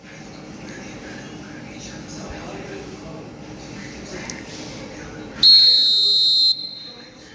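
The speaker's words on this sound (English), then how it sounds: "the whistle's gone, presumably for offside" A referee's whistle blows in an eFootball 2025 video game match, one sustained shrill blast of about a second rising loud over the steady crowd murmur, while match commentary talk runs through the rest.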